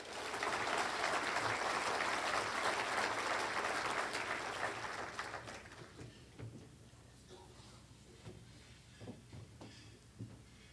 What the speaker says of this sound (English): Give a WILL round of applause